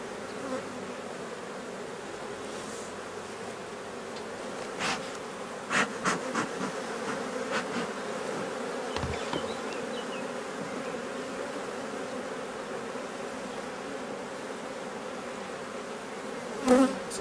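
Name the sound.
honeybee colony buzzing in an open hive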